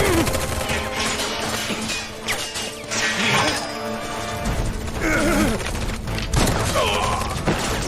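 Gunfire in the Final Fantasy 7 Remake video game comes as dense, loud continuous bursts of shots and crashes, mixed with battle noise and faint voices throughout.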